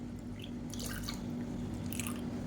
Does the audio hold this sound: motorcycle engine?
no